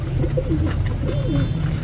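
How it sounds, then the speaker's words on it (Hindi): Soft, low cooing of a female pigeon in a short rolling phrase, close by over a steady background hum. "ये देखिए वही फीमेल है हमारी और देखिए बिल्कुल सीधी कबूतरी फिर रही है"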